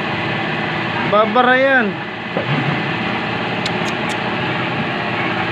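A Rusi 150 motorcycle with a knocking engine fault, oil not reaching the cylinder head, idles with a steady mid-level running drone; someone speaks briefly over it near the start.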